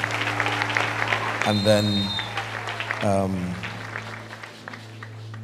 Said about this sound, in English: Let's give him a big hand clap.